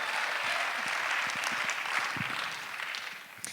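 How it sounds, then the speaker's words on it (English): An audience applauding a speaker named Danielle as she takes the stage at a talk, steady clapping from a sizable crowd that stays even and then thins out toward the end. "please, big round of applause for Danielle"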